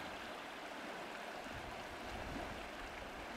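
The Loire river flows steadily in a broad, even rush of water, a constant close wash with no breaks and no voices.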